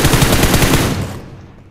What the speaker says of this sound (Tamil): அவன் சும்மா ஃபயர் பண்ணிட்டு கிடக்குறான்